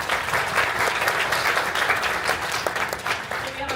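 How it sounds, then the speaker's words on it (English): A round of applause from the audience at a startup networking night in Las Vegas, a thick, steady crowd clapping that swells and carries on for several seconds before thinning slightly at the end. "Give them a round of applause."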